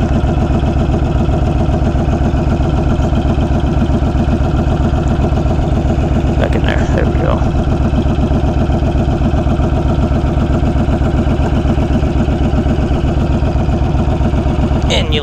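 A 2020 Honda Fury motorcycle fitted with a Cobra fi2000 tuner runs close by at a steady idle, its low, even pulsing throb continuous, with a couple of brief handling knocks midway.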